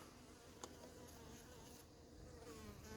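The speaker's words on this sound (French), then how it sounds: "Il y a un frelon qui est dans le sas, qui est dans le manchon." Hornets buzz inside an anti-hornet tent at an apiary in Montgeron, a faint, continuous droning with brief louder passes as the insects fly about.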